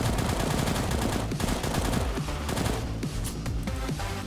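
Gunfire in the video game Before Dusk: loud, rapid bursts of shots rattle almost continuously across the whole stretch over a dense game soundscape, with no talking.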